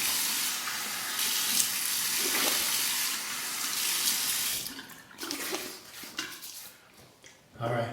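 Tap water runs steadily into a bathroom sink while warming the face before a shave, a close continuous hiss that cuts off midway, followed by splashing and handling noises.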